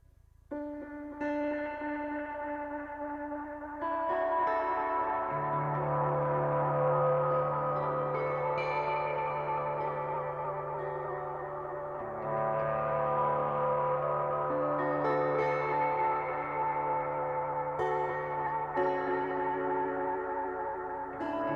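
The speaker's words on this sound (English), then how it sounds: "the third split is the tape delay, which is then going into an auto panner" Ambient guitar tones run through a Mod Duo X pedalboard with tape delay, auto panner and reverb, forming a sustained, layered wash of echoing notes that swells and shifts steadily for the whole stretch, with no talking.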